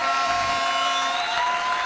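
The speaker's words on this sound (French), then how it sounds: "avec applaudissement et acclamation" A church congregation produces a steady, full wash of applause and acclamation, with dense clapping mixed with crowd voices and sustained tones throughout.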